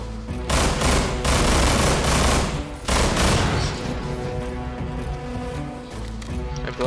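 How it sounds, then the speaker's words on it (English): Dense rapid gunfire in the video game Estranged fills the scene, loud and sustained bursts with heavy overlapping shots, followed by a fading rumble as the action settles. "I blew up that barrel after I killed them"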